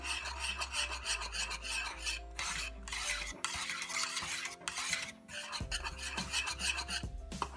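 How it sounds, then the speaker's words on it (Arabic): Semolina dough with hot milk is stirred in a pot, producing continuous rasping, scraping strokes against the pan, close and loud, over a low steady hum with brief pauses between stirs. "ضل عم حرك لاحصل على عجينه متماسكه تماما"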